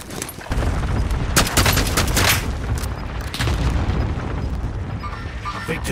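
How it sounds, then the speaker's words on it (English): Gunfire in a battle royale video game, with a dense burst of loud booming shots and rapid fire filling most of the stretch, close and heavy. "I shot him a couple times"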